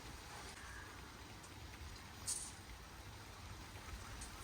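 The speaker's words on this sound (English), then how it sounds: "It's raining." Steady rain falls outdoors on a garden plot, a constant soft hiss with scattered drops tapping nearby surfaces, one sharper patter standing out briefly.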